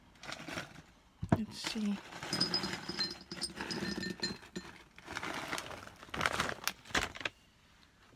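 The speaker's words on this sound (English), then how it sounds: "It's just peanuts. Just cut it open." Peanuts are cut open with crinkling, crackling handling noises and faint clinks, scattered among stretches of close conversational speech.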